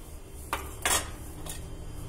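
Cut paneer pieces being added to cooked spinach in a pan and stirred, giving a few close metallic scrapes and clinks of a spoon against cookware over a low background hum.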